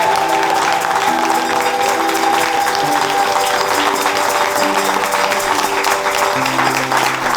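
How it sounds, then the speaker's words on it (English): Sustained crowd applause at the London Marathon, a dense wash of clapping that carries on steadily throughout with a faint murmur of voices beneath. "So a huge round of applause."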